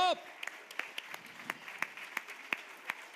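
Faint, sparse clapping from a small audience at the BateaSon 2024 music contest, with separate claps falling at a loose, steady pace in an otherwise quiet room.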